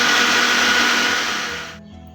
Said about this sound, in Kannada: ಚೆನ್ನಾಗಿ ಮಿಕ್ಸಿ ಮಾಡಿ ಗ್ರೈಂಡರ್ ಮಾಡಿ